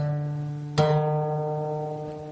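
An acoustic guitar strum rings out once, loud and close, its strings slightly out of tune, the chord sustaining and slowly fading with no voices.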